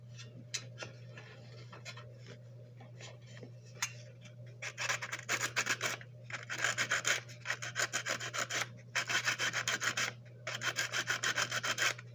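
Steel wool scrubs rust off a Marx model train passenger car, starting with faint scratching and then moving into steady bursts of close, raspy rubbing strokes.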